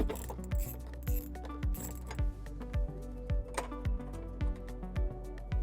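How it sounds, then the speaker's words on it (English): A ratchet with a 10mm socket loosens a taillight bolt on a 2020 Jeep Wrangler, giving about ten evenly spaced, close ratcheting clicks over a faint background hum. "we're now going to remove this bolt using a 10mm socket"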